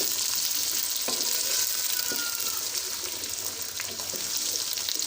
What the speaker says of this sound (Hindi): भिंडी को हम अच्छी तरह से मिक्स करेंगे घी में।